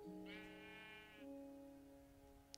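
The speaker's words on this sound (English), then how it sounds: "Oh, hey, sheep." Sheep bleating in the video game Minecraft: a single wavering bleat lasting about a second, clear and close, followed by a quieter tone with no voices.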